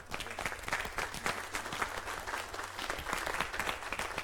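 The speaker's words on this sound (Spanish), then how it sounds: "Dele palmas al Señor" A church congregation claps in praise during a Spanish-language Bible study on Exodus, a dense, steady wash of many hands that holds for several seconds with a lively uneven rhythm and no voices on top.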